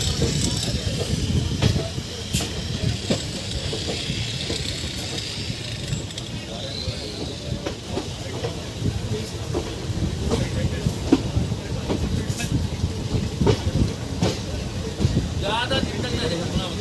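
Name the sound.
train moving on rails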